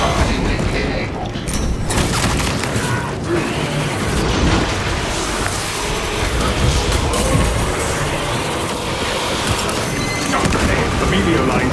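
Heavy cannon fire booms through a battle in the video game Warhammer 40000: Space Marine 2. Loud, continuous blasts and mechanical rumbling pile up into a dense, unbroken wall of sound.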